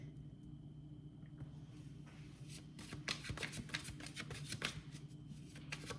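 Tarot cards are shuffled and drawn, starting with faint soft handling and building into a quick burst of riffling card flutters, close but quiet, with no talking.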